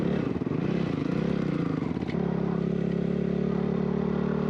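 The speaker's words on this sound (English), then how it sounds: "grabbed some motorbikes and went for a quick rip" A dirt bike engine drones loudly and continuously on the sand dunes of Sand Mountain, Little Sahara, Utah, shifting pitch partway through before settling into a steady, buzzing rumble.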